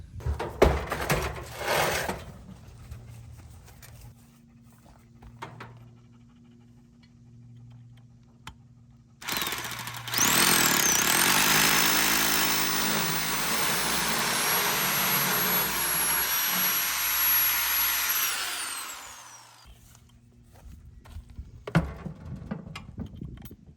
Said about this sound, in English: how's it gonna hold up when I drill some concrete screws through it?